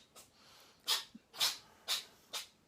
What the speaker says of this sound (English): that's my cat sneezing.